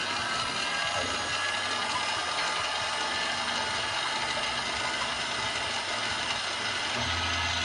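An electric mixer whirring steadily while beating egg whites for a butterscotch meringue pie, a continuous close mechanical drone with a faint rattle and no pauses, without talk.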